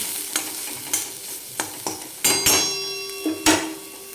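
Chopped onions frying in a pan with chili powder and salt, stirred by spoon: a soft, steady sizzle under a string of sharp, close scrapes and metallic clinks at uneven intervals.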